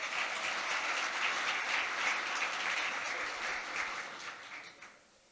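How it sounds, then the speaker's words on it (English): Audience applause at a city State of the City address, a steady dense wash of clapping that holds evenly and then fades out toward the end. "Could we give them one more round of applause?"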